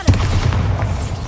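A Bombarda blast spell goes off in Hogwarts Legacy with a quick thudding boom, followed by a short run of rough, crackling low impacts. No speech is heard.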